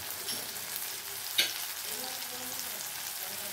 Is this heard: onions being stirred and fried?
yes